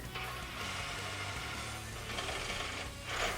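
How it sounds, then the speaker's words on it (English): Ratchet wrench unbolting the passenger-side Y pipe on a 2012-2018 Jeep Wrangler exhaust, a steady run of close mechanical clicking that continues throughout with no talk. "we're going to unbolt the passenger side of the Y pipe just to give us a little bit more wiggle room"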